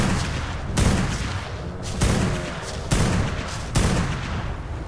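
Gunfire in ARK: Survival Evolved, with the Primal Fear mod, aimed at a creature during taming. Four loud, sharp bursts land about a second apart over a dense, continuous roar of background noise.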